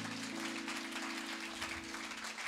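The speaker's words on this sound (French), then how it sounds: "Applaudissez le Seigneur." Applause from a church congregation during a French-language sermon, a steady dense wash of clapping filling the whole moment over a held organ or keyboard drone.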